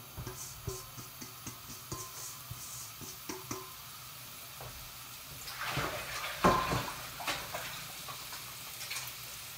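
Pork pieces frying in plenty of hot oil in a pan, a steady sizzle with sporadic pops and spatters that swell into a louder burst of crackling midway before settling back to a hiss.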